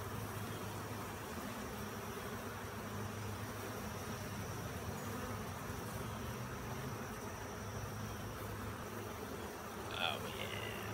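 Honey bees buzz around an open beehive while a honey super is added, a steady, dense drone of many insects close by, quiet overall with a few individual bees passing near the end.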